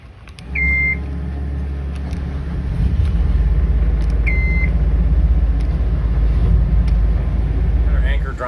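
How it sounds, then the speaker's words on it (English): A loud, steady low boat engine drone runs throughout while raising an anchor, with a couple of short electronic beeps near the start and end. "The engines to get this anchor up."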